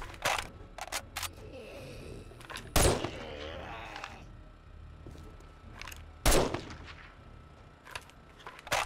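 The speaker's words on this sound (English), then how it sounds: "Shoot these guys off of here." Sharp gunshots ring out in 7 Days to Die on Insane Nightmare difficulty while zombies are shot during a horde night, a handful of loud cracks spaced irregularly, some in quick pairs, with game noise and a voice talking between them.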